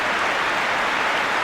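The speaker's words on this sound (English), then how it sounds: "He takes the applause." Stadium crowd applause in the football video game PES 2020 after a Wales goal against Turkey, a steady broadband roar of clapping and cheering filling the whole moment with no pause.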